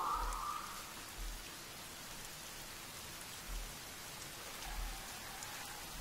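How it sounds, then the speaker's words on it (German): Steady rain falls in The Forest video game, a dense, even hiss of drops with faint low rumbles and no voices. "Ey, es regnet hier."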